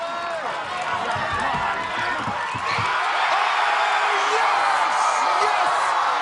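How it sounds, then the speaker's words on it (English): A big arena crowd at American Ninja Warrior's San Antonio finals roars loudly, cheering and whooping as a wall climb succeeds, the noise swelling and staying dense, with an excited commentator talking over it. "The crowd losing their minds!"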